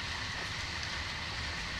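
Steady rain falls in a video game scene, a dense even hiss that stays constant and fairly close through the whole short stretch, with no voices.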